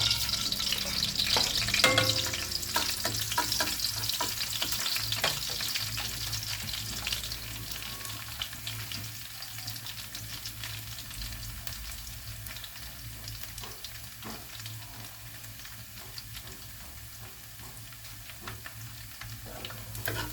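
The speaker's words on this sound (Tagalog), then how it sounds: "Lagay na po natin ang ating bawang." Garlic sizzles steadily in hot oil in a pan, cooked as the base for chicken adobo with pineapple. A continuous close, broadband crackle holds throughout with occasional stirring clicks and no talking.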